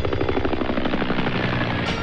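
Helicopter in flight on the way to Manali, heard as a steady, loud rotor and engine drone with a rhythmic chop that fills the short stretch without any talk.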